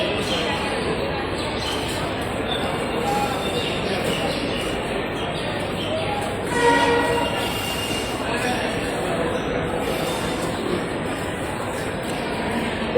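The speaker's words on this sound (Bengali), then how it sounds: "রাজশাহী কমিউটার যে ট্রেনটি রয়েছে সেই ট্রেনটি প্রায় 2 ঘন্টার কাছাকাছি বিলম্বে হয়ে সেই ট্রেনটি এই মুহূর্তে ঢাকা ত্যাগ করছে" The Rajshahi Commuter train pulls out of Dhaka's Kamalapur station after a delay of about two hours, a steady, loud rumble of rolling carriages that continues unbroken throughout.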